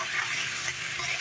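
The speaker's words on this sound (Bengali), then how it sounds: "ভাজা ভাজা করে নেব" Potatoes frying together with a ground spice paste for an egg omelette curry give off a steady, close, even hiss of sizzling oil through the whole short moment, with no talk.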